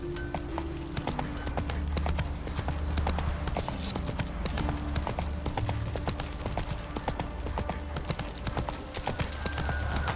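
Roach the horse trotting with steady, rhythmic clip-clopping hooves in The Witcher 3, the hoofbeats continuous and fairly close over a low ambient game soundscape, with no voices.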